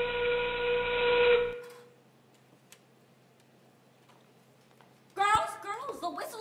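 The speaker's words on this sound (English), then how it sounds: "the whistle's already gone" A factory whistle sound effect in a stage production of Radium Girls gives a sustained, steady tonal blast for about a second and a half, then stops; after a quiet pause a performer begins speaking.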